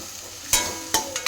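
Sizzling from a hot pan with a few sharp scraping bursts as food is stirred, no voices.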